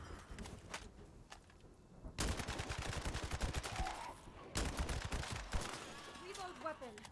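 Rapid bursts of automatic gunfire crackle in The First Descendant, two long sustained volleys with short single shots around them, loud and close, with a little talk in between.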